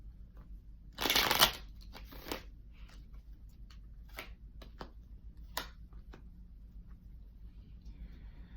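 A burst of tarot card shuffling, a rapid riffling flutter lasting about half a second, followed by a few softer card taps and slides in a quiet room.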